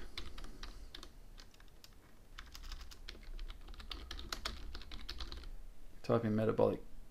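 Someone types a keyword on a computer keyboard, the close, quiet clicking of keys coming in quick irregular bursts, with a brief louder sound near the end.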